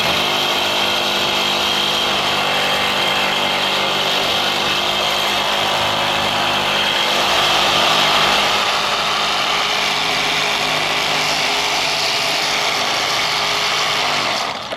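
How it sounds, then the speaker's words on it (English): A hand saw cuts off excess threads on a leaf spring pack bolt during an overload spring upgrade, a steady loud rasping scrape of blade on steel that runs continuously with a dense, noisy texture. "take that saw, and we're going to trim off the excess threads on this spring pack bolt right here"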